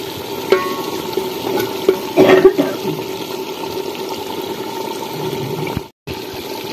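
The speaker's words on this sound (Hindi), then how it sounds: "इसमें थोड़ी सी ग्रेवी के लिए फिर हम पानी भी ऐड करेंगे।" Water is poured into a simmering pan of fish curry to make gravy, a brief splashing burst amid steady sizzling and stirring sounds, with no voices.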